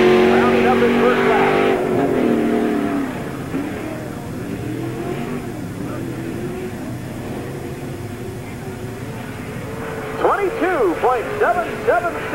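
An engine note from a race car lapping the dirt half-mile Tri-City Speedway at a 1997 NASCAR Busch All Star Tour event swells briefly, then fades to a distant hum while an announcer speaks over it.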